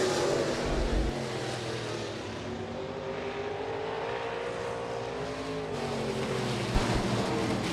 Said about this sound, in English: Our first heat race winner of the night for the stock cars, the 11K of Darren Cordles.